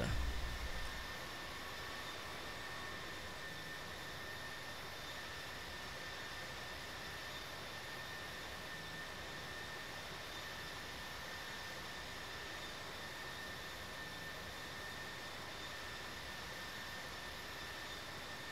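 Jet airliner engines in flight in the game Infinite Flight, a steady, even cabin drone with a high whine that holds unchanged throughout, with no voices.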